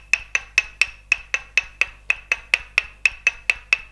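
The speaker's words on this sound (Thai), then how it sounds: "ตอกลงตามแนวกล้ามเนื้อค่ะ" A tok sen wooden massage mallet taps along the muscles in steady rhythm, about sixteen crisp, evenly spaced knocks in four seconds, close and clear over a low hum, with no talking.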